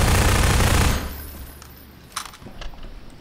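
Gunfire rattles in a Garry's Mod horror map boss fight: a loud, rapid burst of shots for about a second, then the din drops away, leaving a few sharper, scattered shots and clicks at a distance.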